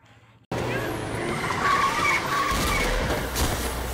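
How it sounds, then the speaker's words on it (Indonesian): A car bursts in after a short quiet moment with a loud, sustained tyre skid and engine roar in a dramatic film scene, the screeching holding close and harsh for several seconds. "Yadav tewas setelah tertabrak mobil"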